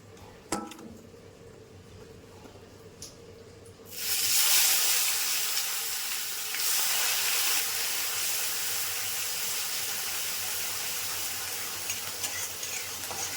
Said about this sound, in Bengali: যে তেলটা আমি মাছ ভেজেছিলাম তাতেই আমি পেঁয়াজ আর টমেটোটা আমি একটু দিয়ে দেবো।